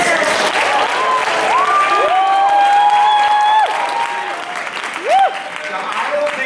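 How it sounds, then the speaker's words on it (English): A high school talent show audience applauds and cheers for a performer, a steady wash of clapping with loud whoops and shouts rising over it, dense and continuous throughout. "Round of applause for Rob Simmons."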